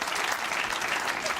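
A studio audience claps in a dense, even burst of applause, brief and steady, with a voice faintly audible beneath it.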